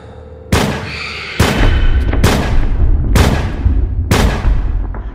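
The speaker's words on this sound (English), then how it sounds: "Chapman pulled out a gun, which was hidden in his jacket pocket. He aimed at the middle of Lennon's back and let off 5 shots" Five loud, sharp gunshots from a handgun ring out in close succession, each a hard crack followed by a short echoing tail, with no voices.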